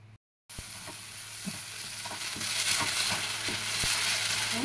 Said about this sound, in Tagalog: Ayan, nagpiprito na siya guys.